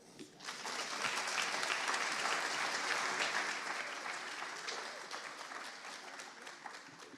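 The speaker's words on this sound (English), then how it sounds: "Let's give our Board of School Commissioners a big round of applause." Audience applause at a school district back-to-school convocation honoring the Board of School Commissioners, a dense sustained wash of many hands clapping that swells quickly and holds steady before easing slightly toward the end.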